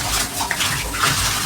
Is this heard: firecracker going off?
no